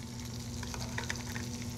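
Black pepper and cumin sizzle steadily as they toast with caramelized onions in a hot pan. The frying is continuous and fairly close, with a few brief crackles and spatters over a low constant hum.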